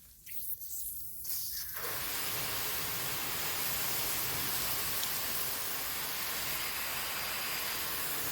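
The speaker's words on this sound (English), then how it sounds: "test it with the either rain or the false rain with the hose" A garden hose sprays water steadily against a metal building door in a dense, continuous hiss that starts abruptly after a moment and keeps going without pause.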